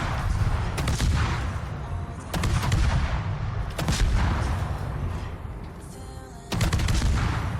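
Destroyer guns firing during a naval battle game with a Gdansk destroyer, repeated heavy booming salvos every second or two over a constant low rumble of ship and sea, loud and without talk.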